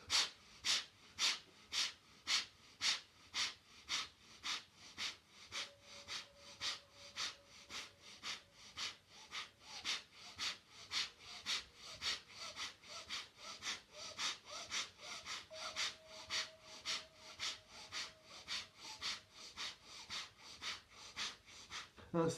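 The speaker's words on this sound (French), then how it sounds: "Plus intense dans la respiration." Forceful, steady rhythmic breathing from a kriya yoga exercise repeats about every 0.7 seconds for over twenty seconds, each breath a sharp, close, hissing exhale. A faint tone hums briefly in the background.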